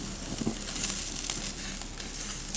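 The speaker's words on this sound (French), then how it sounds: "Voilà notre barbecue, on est en train de griller les côtelettes." Lamb cutlets sizzle and crackle on a barbecue grill, a close, steady hiss of frying fat with scattered pops and spits, heard alone without any talking.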